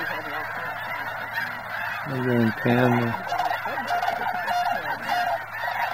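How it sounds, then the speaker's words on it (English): A large flock of waterfowl, likely geese, calls nonstop at Bosque del Apache refuge in New Mexico, with loud nearby honks over a constant distant chorus, and a person speaks briefly. "Listen to the birds."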